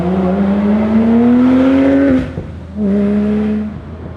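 Porsche 997 GT3 with a valveless straight exhaust driving nearby, its engine howling up through a long rising rev, a sharp gear change, then a second shorter pull that climbs and cuts off.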